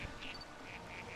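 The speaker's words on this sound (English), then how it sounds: "Something's quacking." A quacking creature in the game New Pokémon Snap gives a few short, soft duck-like quacks in quick succession, faint over a low background.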